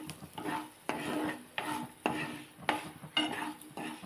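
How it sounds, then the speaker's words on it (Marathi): Dried red chilli pieces sautéed with asafoetida in a pan for a raw mango and fenugreek relish, a close sizzle broken by repeated rhythmic scrapes of a spoon stirring against the pan. "हे सुक्या मिरचींचे तुकडे, आणि चांगलं परतून घेऊ"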